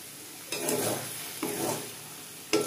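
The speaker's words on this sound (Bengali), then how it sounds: "আর একটু নাড়াচাড়া করে শুকনো করে নেব।" Spiced lote fish mixture with garam masala is stirred in a hot frying pan: three distinct scraping strokes sweep through a soft, steady sizzle, close and clear with no talking.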